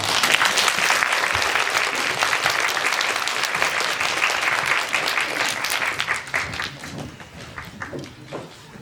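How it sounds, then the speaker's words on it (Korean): A cinema audience at a film talk event in Gwanghwamun greets the actors and director with sustained, dense applause that stays strong for several seconds, then thins out and fades near the end. "배우님들과 감독님을 모셔보도록 하겠습니다. 박수 부탁드립니다."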